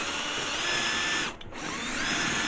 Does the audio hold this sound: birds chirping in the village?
no